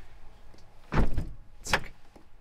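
A camper van's sliding door on a 2022 VanTourer 540 D pulled shut by its manual soft-close assist: two close, quiet rolling thuds, then a softer latch click a moment later.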